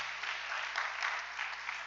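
A church congregation applauds in a dense, even wash of clapping that holds steady throughout without breaks, moderately loud and unaccompanied by speech.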